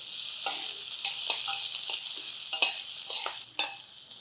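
Finely chopped onion pieces frying in a pan, giving a continuous sizzle broken up by repeated scrapes and stirring taps, close and fairly loud, with no voices.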